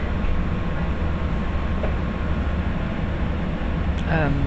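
A steady, heavy rumble of a Great Western Railway passenger train on the Greenford branch shuttle near Drayton Green, heard from inside, with a brief rising tone near the end.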